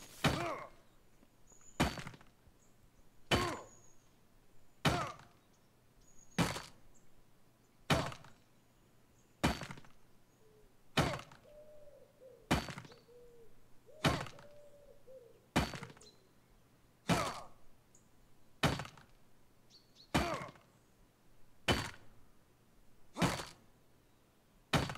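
Stone being mined in the video game Fear the Night: a steady series of about sixteen hollow, thudding strikes, evenly spaced roughly a second and a half apart, loud and close over a quiet background.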